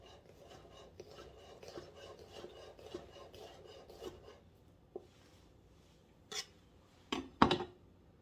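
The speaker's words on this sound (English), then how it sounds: "You can slice them thinner, as thin as you like." A kitchen knife slices vegetables on a cutting board in a run of quiet, close, rasping cuts, followed by a few sharper knocks of the blade against the board near the end.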